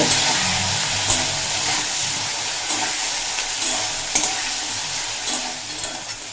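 Okra frying over a high flame with salt and turmeric, a close steady sizzle broken by regular spatula stirs and scrapes.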